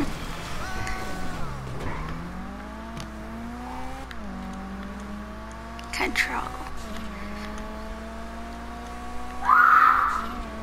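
A car is driven in GTA 5, its engine rising and falling through gear changes with brief screeches, while people talk over the continuous motor hum.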